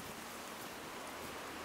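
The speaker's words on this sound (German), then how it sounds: "Oh Gott, jetzt haben wir noch Unwetter." Steady rain storm in the Generation Zero video game, a dense continuous hiss of rainfall with low rumbling underneath, even and unbroken throughout with no talking.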